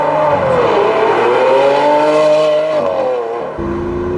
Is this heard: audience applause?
no